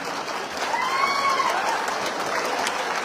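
Steady applause from an audience at an MRPS executive committee meeting in Hyderabad, a dense wash of clapping sustained throughout at a fairly even level, with no talk over it.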